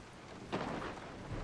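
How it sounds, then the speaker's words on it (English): Rain and a rumble of thunder in the horror game Resident Evil 7: a steady downpour hiss with a sudden deeper roll of thunder rising partway through and lingering under the rain. "It's raining."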